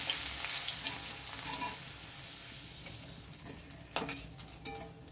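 Potato pieces fry in oil in a pan for a chickpea ghugni, a soft continuous sizzle with light stirring and a few metal clinks of a spoon against the pan near the end.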